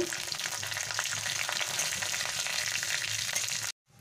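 A tempering of dry red chili, whole cumin and bay leaf frying in oil in a kadai, a dense, steady crackling sizzle heard close, stopping abruptly near the end.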